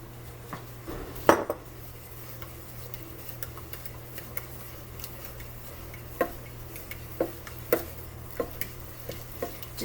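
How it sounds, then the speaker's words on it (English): A spoon stirs eggs and vanilla into brownie batter in a bowl, giving a steady soft scraping under a low background hum, with occasional sharp clinks of utensil against the dish. "Just constantly stir until everything is nice and well mixed in."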